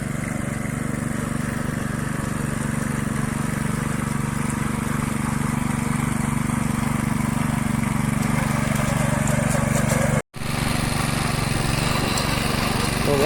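A farm tractor in the Konkan region moves from one ploughed paddy plot to another during the first monsoon ploughing, its engine a steady, loud drone throughout with one brief dropout near the end.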